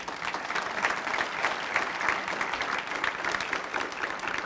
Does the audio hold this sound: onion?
no